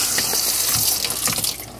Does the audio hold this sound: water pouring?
yes